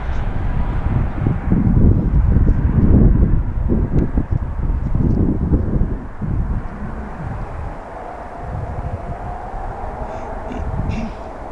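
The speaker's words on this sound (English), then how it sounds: "Next arrival is Flight Path Charter Airways, Embraer Praetor 600 from Montreal." An Embraer Praetor 600 business jet arriving at Philadelphia makes a loud rumbling engine roar that surges early, then fades to a quieter, windy hiss and low drone.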